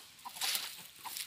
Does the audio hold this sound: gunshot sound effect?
no